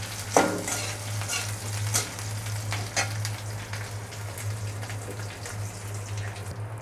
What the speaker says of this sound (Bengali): ভেজে নেব এগুলা।